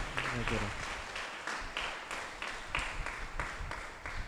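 An audience applauds a priest at a Catholic triduum prayer service for Our Lady of Good Health. The dense, steady clapping fills the whole stretch with slight swells, and a voice is heard over it.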